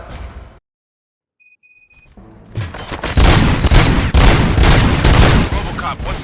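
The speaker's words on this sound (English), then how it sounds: "Gunshots? What's going on?" Gunfire in the RoboCop Rogue City video game: after a near-silent pause with a few electronic beeps, dense rapid bursts of shots and booms erupt loudly and continue in a sustained volley.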